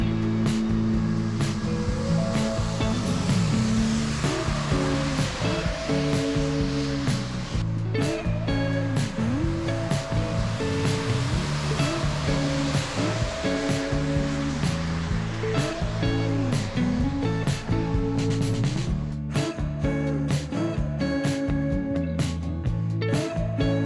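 Steady rushing of a river flowing strongly near camp on a road trip heading south from Alaska, a broad continuous wash of water that stays even and fairly close throughout.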